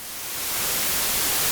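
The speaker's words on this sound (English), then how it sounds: "you put some white noise or pink noise through the speakers" Pink noise played through PA speakers in a venue, a loud steady broadband hiss that swells in over the first half second and then holds constant.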